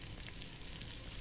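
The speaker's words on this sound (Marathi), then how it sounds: "आता हे आपण चटणी करता फोडणी करून घेऊ" Cumin, mustard seeds and curry leaves sizzle in hot oil as a tempering for chutney: a short, faint, steady crackle with no voices.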